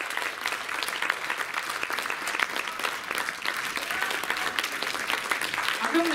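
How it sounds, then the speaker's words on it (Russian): An audience applauding at a festive concert in a Novosibirsk culture hall, dense steady clapping filling the room throughout, with a voice briefly heard over it. "этими аплодисментами мы провожаем оркестр русских"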